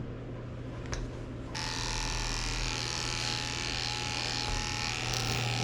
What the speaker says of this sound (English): I'm lifting her back legs up and shaving her whole belly out because there were some mats under here